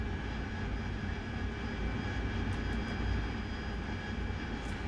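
AV-8B Harrier jet engine in the flight simulator DCS, a dense, continuous roar with a steady high whine, loud and unbroken for the whole stretch, no voices.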